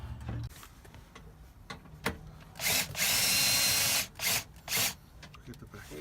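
A power drill drives small screws into a passenger-side swivel seat in a 2017 Mercedes-Benz Sprinter van, whirring in a long burst and a few short pulses, close and loud, amid quiet talk and handling noises.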